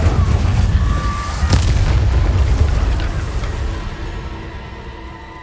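An Incendio fire spell bursts in Hogwarts Legacy: a loud, close booming blast with a sharp crack early on, then a long rolling roar that slowly fades away.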